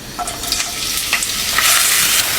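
Onion, garlic and dried chillies frying in soybean oil for a hotel-style moong dal, a steady loud sizzle with bright crackling bursts throughout, no voices.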